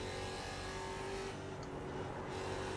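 A production race car in iRacing at Bathurst holds full throttle, giving a steady, loud, close engine drone that stays constant throughout with no talking.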